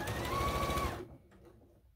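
Sewing machine stitching quilt seams, running in a fast, steady mechanical patter close by for about a second before stopping, leaving only faint background noise.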